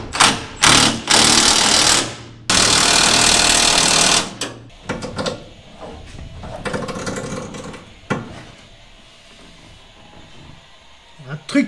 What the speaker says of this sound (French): Maintenant, je reboulonne ici en dessous.